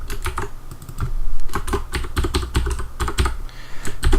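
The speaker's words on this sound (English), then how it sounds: "we'll type in placeholder password down here" Rapid typing on a computer keyboard, keys clattering in quick irregular bursts with brief pauses, close and fairly loud with no voices.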